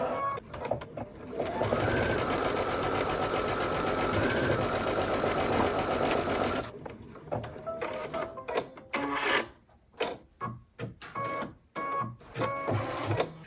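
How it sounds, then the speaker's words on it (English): An embroidery machine stitches the first step of a design on hooped stabilizer, a rapid, even mechanical chatter for several seconds that then breaks into intermittent clicks and short stitching bursts. "So I have the design loaded to the machine and the hoop here, so we're going to stitch the first step."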